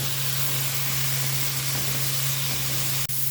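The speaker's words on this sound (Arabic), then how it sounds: "هبدأ احمره ب3 معالق الزيت اللي احنا حطيناهم" Steady, close hissing and sizzling of eggplant frying in hot oil, continuous throughout with a faint low hum underneath.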